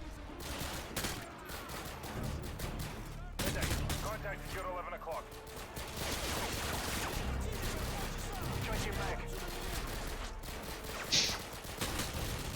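Sustained bursts of automatic rifle fire and scattered single shots from a Call of Duty: Modern Warfare 2 firefight, loud and nearly continuous, with a voice talking over part of the battle.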